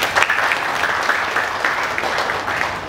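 Audience applause during a political speech at an IPSI regional inauguration ceremony in Yogyakarta, a steady dense clapping from a crowd that holds for about three seconds with no voices over it.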